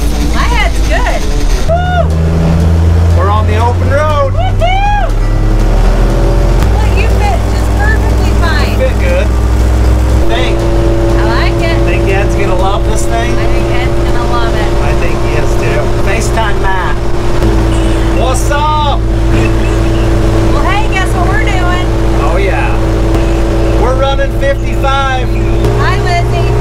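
A Suzuki car cruises on the open road, its engine and tire noise forming a loud constant drone with steady low hum, while several people talk and exclaim over it throughout.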